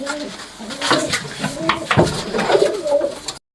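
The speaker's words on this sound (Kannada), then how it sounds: "ಮತ್ತೆ ಬೆಟ್ಟಿದ ತಕ್ಷಣ ನೋಡಿ ಈ ತರ ಗುಮಾಯಿಸ್ಬೇಕು" Male pigeon in a loft cooing in repeated throaty bursts, close by, with faint clatter around it.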